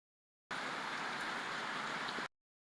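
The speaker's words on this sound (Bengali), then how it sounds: "দেখেন দেখেন বৃষ্টি বৃষ্টি বৃষ্টি" Steady rain falls outdoors, a continuous even hiss of drops on surfaces that starts and stops abruptly, moderately quiet, with no voices.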